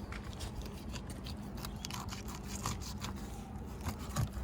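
A knife cuts through the flesh of an amberjack near its head, giving close, steady scraping and crunching with small sharp clicks over about four seconds.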